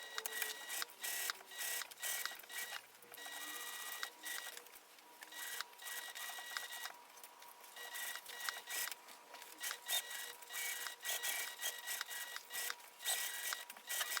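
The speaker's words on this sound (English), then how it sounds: "I'm sewing it the same way with these panels against the bed of my machine" A sewing machine stitches fabric panels for a train case, making a steady mechanical whirring and clatter in bursts with brief pauses. It sounds close and moderately loud, with no voices.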